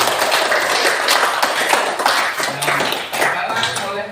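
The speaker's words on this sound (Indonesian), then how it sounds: "Berikan aplaus untuk kelompok 3." Classmates in a school classroom clap for a student group, a loud, dense burst of many hands clapping continuously for about four seconds and tapering slightly at the end, with voices mixed in.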